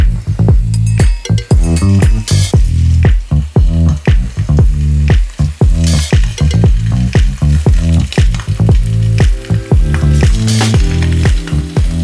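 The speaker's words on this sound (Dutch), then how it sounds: "Je hoort ze sissen." Rosemary sausages sizzle loudly in hot oil in a close-up pan, a dense continuous crackle broken by frequent sharp taps and scrapes as they are moved around; no one speaks.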